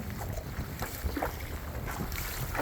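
A fishing boat pushing against strong wind, currents and rough waves, with constant wind rumble and buffeting on the microphone and water sloshing and slapping against the hull, loud and unbroken throughout.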